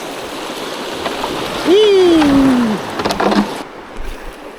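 Flowing water from the Devils River rushes steadily around a kayak, a constant hiss with some splashing, while a voice briefly lets out a drawn-out exclamation above it.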